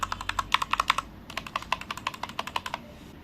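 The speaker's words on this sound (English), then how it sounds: "Sound is quite loud for a linear switch." Close typing on a Redragon mechanical keyboard with linear red switches, producing fairly loud, crisp keystrokes in quick uneven bursts with a brief pause midway.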